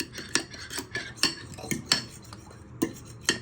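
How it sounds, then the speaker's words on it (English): Whisk beating ingredients for an orange cake in a bowl, producing rapid irregular metallic clinks and scrapes against the bowl, close and fairly loud, with no talk. "Give it a good whisk so they can break down nicely"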